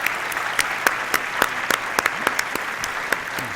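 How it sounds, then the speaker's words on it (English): A modest audience at a university alumni awards gala applauds its trustees, a thin spread of individual claps standing out sharply over a soft background. "Join me in thanking Chairman Thresher and all other current trustees emeritus with a round of applause for their leadership"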